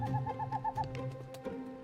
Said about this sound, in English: We use a caller that is playing the male breeding song, so you'll hear those calls.